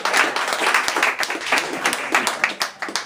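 Audience at a spoken-word and beatbox show claps loudly and continuously, a thick, even layer of many hands clapping close by, with no voices over it.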